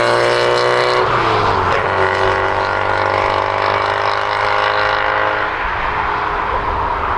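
A Volkswagen Golf Mk2 GTI engine with a fresh rebuild roars loudly from close by, its revs climbing toward about 4,000 and shifting as the car drives, with rushing road and wind noise underneath.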